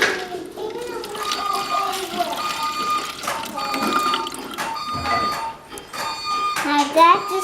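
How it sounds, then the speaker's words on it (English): Water is poured into a container, making a continuous gurgling, splashing trickle close by while someone talks over it. "we got our water. I have to pour it in."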